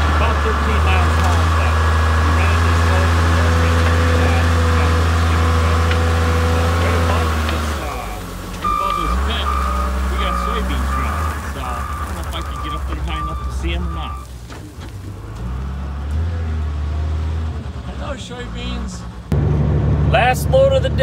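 A Peterbilt 379 truck hauling a load of gravel, its diesel engine droning loud and steady with a low harmonic hum, shifting pitch midway as it changes gear and then pulling again.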